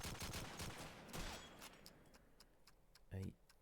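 Gunfire rattles in a Call of Duty 2 multiplayer match, bursts and single shots crackling at mid distance under a commentator's voice, ending with a louder close burst.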